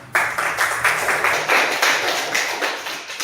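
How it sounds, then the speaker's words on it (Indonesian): Schoolchildren in a classroom clap for a classmate, a loud, fairly rhythmic group clapping in distinct repeated beats close by, with no talk over it. "tepuk tangan untuk Aruna"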